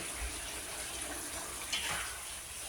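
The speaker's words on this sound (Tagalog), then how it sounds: "So mag-add tayo ng water." Water poured into a pot of chicken curry, a steady faint splashing with a brief louder gush near the end, close by and with no talking.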